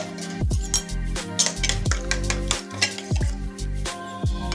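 A spoon stirs turmeric, chilli and cumin powder into water in a small bowl, making a rhythmic series of clinks and scrapes against the container, close and steady, roughly one stroke per second.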